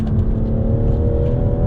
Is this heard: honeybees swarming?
no